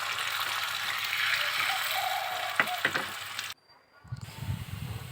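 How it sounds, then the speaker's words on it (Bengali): Beaten egg seasoned with salt and turmeric hits an oiled hot tawa, giving a steady loud sizzle with a few sharp crackles, then a sudden drop to near silence before a lower bubbling hiss returns. "লবণ হলুদ দিয়ে এদিকে মিক্স করা ডিমটা আমি এখানে ঢেলে দিলাম।"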